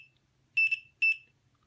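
The buzzer of an fxDetails fishing bite alarm device sounds three short, high electronic beeps, each a quick double pulse with irregular gaps between them, fairly quiet against near silence.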